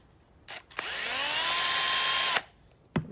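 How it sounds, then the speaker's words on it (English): A power drill bores holes into a wooden sword cross guard, a loud close whine that spins up, holds steady for about a second and a half, then stops, with a few knocks before and after. "now I'm going to drill a hole in each corner of this so I can saw the rest"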